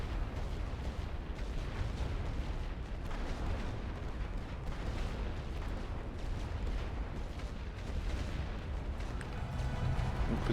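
An artillery barrage in the World War I strategy game The Great War: Western Front, heard as a continuous dense roar of overlapping explosions and booms at steady loudness throughout.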